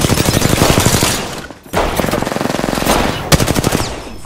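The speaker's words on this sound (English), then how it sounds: "I'm taking fire, friends." Rapid automatic gunfire from an Apex Legends firefight, loud and close, with dense bursts broken by a short pause mid-clip before the shooting resumes.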